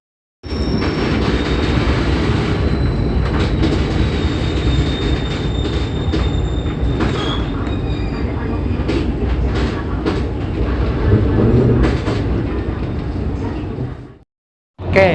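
A KA Pangrango train rolls into Cicurug station, its wheels rumbling loudly and continuously with rhythmic clatter and high metallic squeals, heard up close until it stops abruptly.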